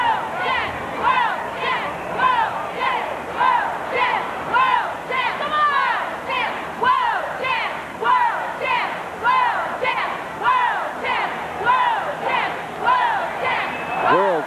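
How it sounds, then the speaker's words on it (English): A large outdoor crowd at the 1991 Chicago Bulls championship celebration in Grant Park chants in loud, steady rhythmic waves, with many voices blending into a continuous roar that pulses throughout. "The crowd a little slow in picking it up because I don't think they're hearing it very well."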